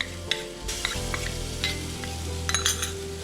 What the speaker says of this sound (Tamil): வெங்காயம் வந்து நல்லா இப்படி ப்ரௌனாக ஆகிற வரைக்கும் நல்லா வதக்கணும்